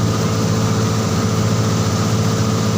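A motorboat engine drones steadily and loudly throughout at sea, a constant rumbling engine hum with no breaks.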